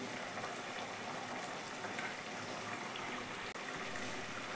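A Bengali fish stew boiling in a pot, a continuous close rolling bubble and watery simmer that stays steady throughout, with a single brief knock near the end and no voices.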